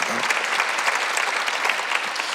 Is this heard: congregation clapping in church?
yes